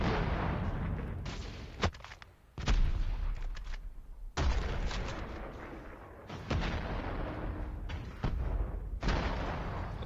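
Heavy cannon blasts from a tank in COD Mobile, a series of loud booming shots with sharp onsets, each followed by sustained rumbling roar, repeating roughly every two seconds over a dense battle din.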